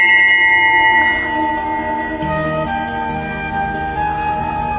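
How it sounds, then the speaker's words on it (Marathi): A temple bell at a small roadside shrine in Goa is rung, giving sustained, ringing metallic tones that carry through the whole stretch without any talking. "घंटा वाजूया."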